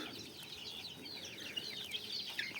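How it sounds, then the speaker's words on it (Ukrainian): A small flock of young hens and roosters forages outdoors, giving faint, continuous, overlapping high peeps and soft clucks with no voices over them. "Ну тут вроді більше курочок, як півників."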